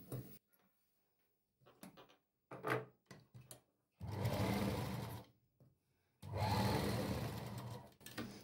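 A sewing machine top-stitches a boatneck blouse, running in short close bursts, then two longer steady whirring runs separated by brief pauses and small mechanical clicks.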